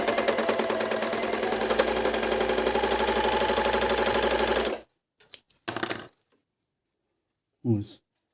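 A Medion MD10685 overlock sewing machine runs at a fast, even mechanical rattle for about five seconds and then stops abruptly, leaving short clicks and a brief spoken remark.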